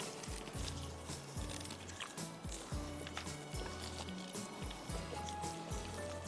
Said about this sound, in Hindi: मैं आधी फ्राई कर रही हूँ, और अगर ये हो जाएगी आधी फ्राई तो मैं रीफ्राई करूँगी इसको।